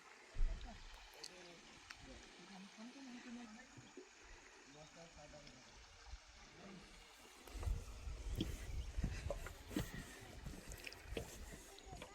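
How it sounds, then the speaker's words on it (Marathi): A village river flows nearby, giving a steady rushing, gurgling wash of water that swells louder toward the end, with voices heard faintly at times. "असा खूप छान आवाज येत आहे नदीचा"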